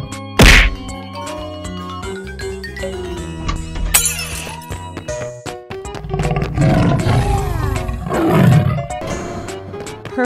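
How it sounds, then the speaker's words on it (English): A tiger roar bursts out loud at the start, followed by music with struck and clinking sounds, and further roaring growls rising twice later amid the busy backing. "tiger."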